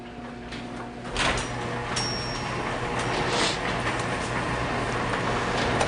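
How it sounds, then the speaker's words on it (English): A large garage door rumbles and rattles as it rolls upward, starting with a sharp clatter and continuing as a steady mechanical grind with a low hum underneath. "let's raise these doors and see what's in the garage."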